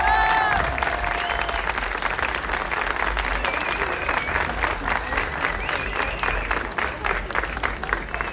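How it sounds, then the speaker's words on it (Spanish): A large audience applauds loudly and continuously for a military orchestra from an infantry battalion, dense clapping sustained throughout with a few cheers mixed in. "Se escuche fuerte el aplauso para la banda."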